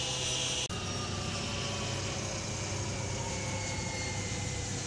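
An AMR Trainer 50 model airplane engine screams at full throttle, a loud, continuous high-pitched whine held steady and close throughout after a brief click at the start.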